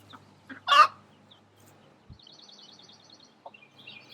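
A broody hen in a backyard flock gives a sharp, loud squawk, followed by softer intermittent clucks and faint chirping from small chicks, with occasional light knocks in the background.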